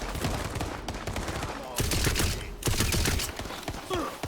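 Dense, continuous gunfire from a PC session of the video game Tiny Tina's Wonderlands, rattling loudly in overlapping bursts with heavier blasts partway through.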